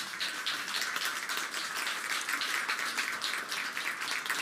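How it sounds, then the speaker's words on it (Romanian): Audience applause at the official inauguration of a technology innovation centre: steady, moderately distant clapping from a seated crowd, dense and even throughout, with no voices over it. "Haideți să aplaudăm pentru inaugurarea oficială a Centrului de Inovare și Transfer Tehnologic din zona de Nord, Nortec"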